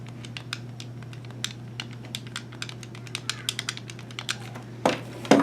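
Face buttons on an original GameCube controller are pressed in quick, irregular clicks, close and crisp, with several bunched presses and a louder clatter near the end, heard alone without talk.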